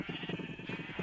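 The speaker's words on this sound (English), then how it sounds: "I don't have any blue sheep in this thing at all." A Minecraft sheep gives a single short, wavering bleat, close and clear.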